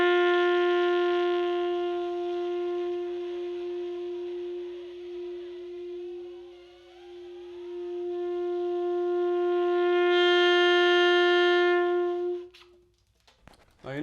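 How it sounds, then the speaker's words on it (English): A saxophone holds a single middle G for a long time, starting loud, fading down to a very soft pianissimo, then swelling back to full volume before stopping abruptly, with no talking. "For me, middle G on saxophone."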